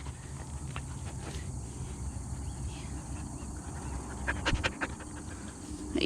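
A young pup named Chester pants in quick, soft, rhythmic breaths close by on an off-grid rural property, with a few light footstep scuffs and brief clicks over quiet outdoor background.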